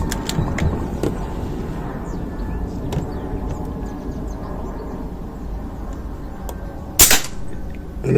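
A Snowpeak AP900 air pistol fires a single sharp, snappy shot at target practice, standing out against a quiet background with a few faint clicks earlier.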